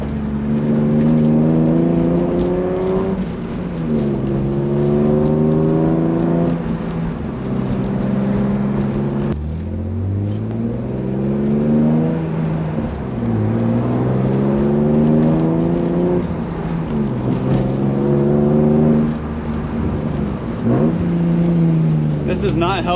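A BMW E36 drives along with its engine droning close, rising and falling as it accelerates and shifts through several gears, with steady road and wind noise underneath.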